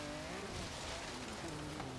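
A 2005 BMW M3 in Forza Horizon 3 ploughs through water at close to 100 mph, giving a steady, faint wash of engine drone and spray with no clear break in the sound.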